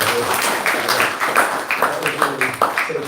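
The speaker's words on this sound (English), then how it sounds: "Round of applause for that one." An audience at a Sunday Love Feast class claps in a quick, uneven burst of hand claps at moderate loudness, with a voice underneath.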